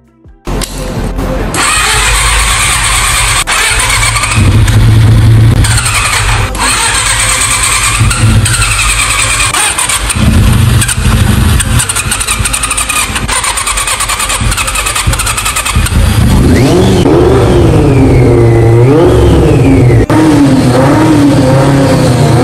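A Honda CB400 motorcycle engine, long unused and rough-running, starts up and idles loud and close before a series of rising and falling revs.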